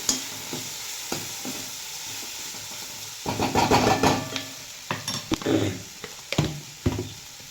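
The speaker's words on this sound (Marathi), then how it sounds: "तर आता याला चांगलं परतवून घ्यायचं" Onion and tomato chutney seasoned with red chili powder sizzles in a pan while a spatula stirs and scrapes it in irregular bursts, the frying hiss steady underneath.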